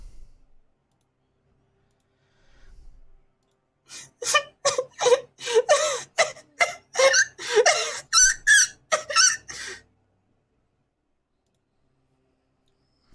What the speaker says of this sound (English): The sound creaks through the door, along with the whoosh of a cold draft.